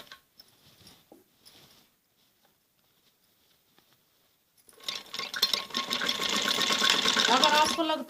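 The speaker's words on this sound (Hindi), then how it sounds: "ऐसे ही थोड़े हल्के हाथ से ही हमें सिलाई लगानी होती है।" A sewing machine stitches a neck strip onto a kameez. After a few quiet seconds with small handling clicks, it starts at about the halfway point and runs as a fast, steady mechanical whir, close and fairly loud.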